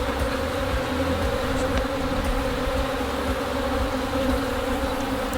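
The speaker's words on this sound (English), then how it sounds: "the bees were messing with us inside" A dense, steady buzzing of many honey bees, continuous and close, with no voices.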